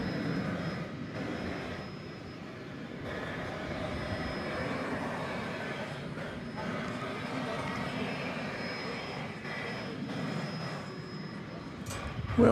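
An American Airlines Airbus A321 jet rumbles at an airport, a fairly faint, continuous low engine roar that swells and eases slightly, with a voice talking over it.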